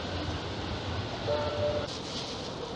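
Tram rumbling at St Peter's Square station in Manchester, a steady rolling rail drone with a brief tonal whine from the wheels or motor, heard close and continuous.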